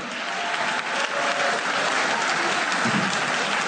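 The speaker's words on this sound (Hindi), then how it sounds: "नूर ज़मान के लिए बहुत सी तालियां." Dense, steady applause from an audience honoring Pakistani squash champion Noor Zaman, a continuous wash of many hands clapping at even loudness throughout with no speech over it.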